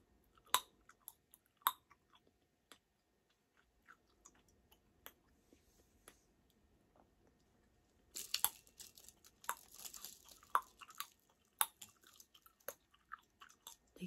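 Starbucks gum is chewed and snapped close to the mic: sharp, sporadic clicks and pops at first, then denser wet crackling and crunching through the second half, with no talking.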